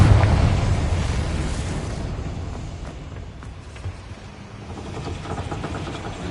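Confringo fire spell explosion in a Harry Potter video game: a loud low rumbling blast at the start that fades into a long crackling, roaring decay with faint scattered pops.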